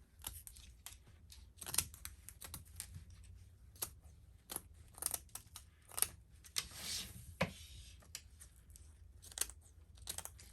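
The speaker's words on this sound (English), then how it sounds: "I'm just going to actually cut this little panel off so I can work with this a little bit easier" Scissors cut a small neoprene-lined panel off a mermaid wedding gown, heard as a string of close, crisp snips and fabric crunches at an uneven pace in a quiet room.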